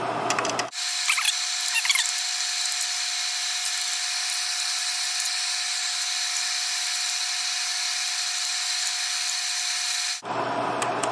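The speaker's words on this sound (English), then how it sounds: "now I'm going to unscrew these 4 screws." A powered screwdriver or drill backs out the four screws holding together a preheat fluorescent strip light. A loud, steady high-pitched whine runs continuously for about nine seconds, starting and stopping abruptly, with no talking.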